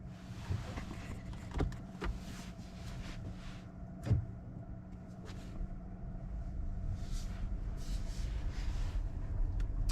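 A 2023 Nissan X-Trail e-Power SUV heard from inside the cabin as it pulls away, a low steady road and drivetrain hum that slowly builds, with a few soft thumps and clicks.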